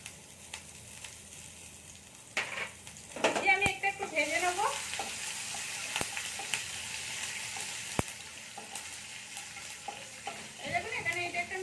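Mustard seeds, cumin, white sesame and chopped green chilli hit hot oil in a pan, bringing a quiet, steady sizzle and crackle with a few sharp pops and clicks, without any talk.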